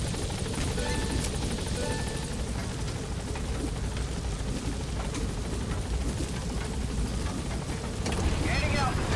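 A helicopter lifting off in Metal Gear Solid V gives a loud, steady rotor and engine roar with broadband wash, close and continuous, rising slightly near the end.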